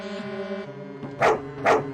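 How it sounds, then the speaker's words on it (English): A dog in a video game barks twice in quick succession, two short bright yelps that stand out over a steady droning musical background. "It's dog."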